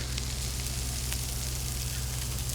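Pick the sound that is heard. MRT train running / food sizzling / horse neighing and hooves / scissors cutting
food sizzling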